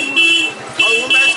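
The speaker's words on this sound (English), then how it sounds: "A lot of honking, trying to cross the street." Car horns toot in Delhi street traffic near Karol Bagh, three short honks spaced a beat apart, close and loud over a low background rumble of vehicles.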